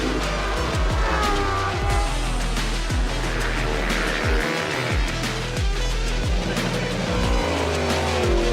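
Lamborghini Super Trofeo race cars at a race start at The Bend Motorsport Park roar loudly as a pack, engines rising and shifting through gears with overlapping passes and faint tire noise, and no talk.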